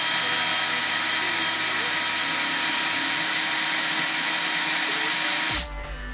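A loud, steady power drill whines continuously against a stainless steel test pipe for several seconds, the bit failing to get through, then cuts off abruptly.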